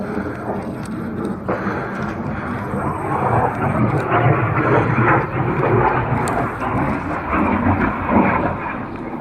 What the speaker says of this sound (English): listen to this barrel bomb being dropped from a helicopter without exploding